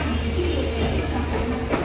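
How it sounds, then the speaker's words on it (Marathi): A train pulls out of Dadar station, a low continuous rumble of rail cars heard steadily throughout at moderate level. "दादर स्टेशनवरून ट्रेन निघालेली आहे।"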